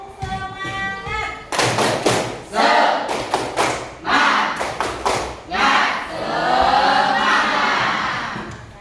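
A class of students performs the rhythmic 'tepuk semangat' clapping chant in a classroom, with loud bursts of claps and thumps punctuating group voices chanting together, continuing for several seconds.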